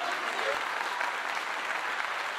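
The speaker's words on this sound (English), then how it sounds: "We were clapping and jumping up and down for joy." A crowd of people clap their hands in steady, dense applause, loud and continuous throughout with no voices standing out.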